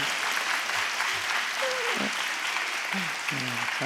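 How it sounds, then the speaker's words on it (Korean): Congregation applauding during a church sermon, a steady wash of clapping across the room with some faint voices mixed in. "설교하다 박수 받은 첫날입니다"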